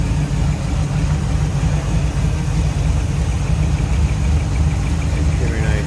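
A 1979 Jeep CJ7 with a 360 engine idling close by, a steady, loud, even rumble that holds without change throughout.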